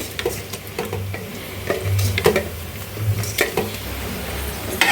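Chopped ash gourd is sautéed in a pan, producing a steady close sizzle broken by repeated scraping strokes of a spatula against the metal.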